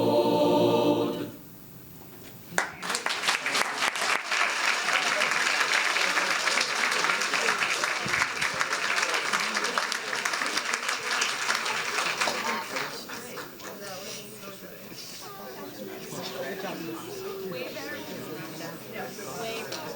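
Audience applause for a junior high school varsity band at a school board meeting, a loud sustained burst of clapping that swells, holds for several seconds, then thins and fades.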